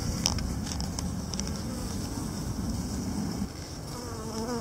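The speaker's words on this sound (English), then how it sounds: "The bees are milling around a little bit." Honeybees mill around an open hive being checked and wrapped for winter, giving a steady, dense buzzing hum that fills the whole stretch with no voices over it.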